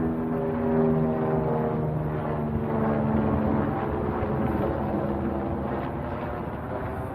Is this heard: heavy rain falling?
no